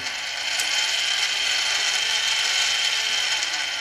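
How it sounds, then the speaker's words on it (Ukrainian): The wire feed motor of a Stark IMT 200 welder runs on a 24 V power supply, giving a steady, close, continuous whirring hum with a faint mechanical rattle throughout, and no speech. "треба перевірити, чи мотор працює. Зараз під'єднав блок живлення"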